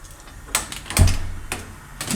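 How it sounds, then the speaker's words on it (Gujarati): A kitchen gas stove is switched on for boiling water, giving sharp igniter clicks repeated roughly every half second, close and fairly loud. "ગેસ આપણે ચાલુ કરી દઉં"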